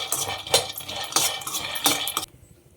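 Half a bowl of peanuts is stirred and roasted in a hot pan, with a spoon scraping and clinking against the metal in quick irregular strokes, close and fairly loud, ending abruptly.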